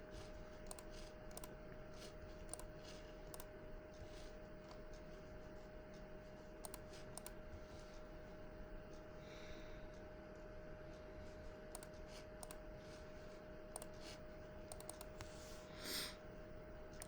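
A computer keyboard clatters quietly and close while someone edits presentation slides, irregular light typing taps and mouse clicks scattered over a steady low hum, with no voices.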